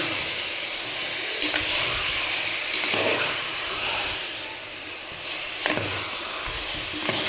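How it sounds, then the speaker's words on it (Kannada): Mutton being stirred and fried in a pan for a village-style mutton saaru, with a continuous moderate hiss of cooking broken by a few sharp spatula scrapes, heard close and without speech. "ಮಟನ್ ಎಲ್ಲ ಹಾಕಿ ಚೆನ್ನಾಗಿ ಮಿಕ್ಸ್ ಮಾಡ್ಕೊತೀನಿ"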